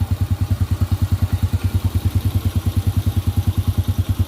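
A Honda Wave 100 motorcycle engine, freshly rebored with a 50 mm bore kit and being broken in, idles close by with a steady, even low-pitched putter, each firing pulse clearly separated in a regular rhythm.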